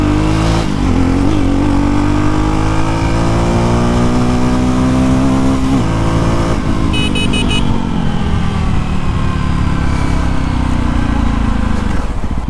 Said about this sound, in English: Acceleration is superb in this bike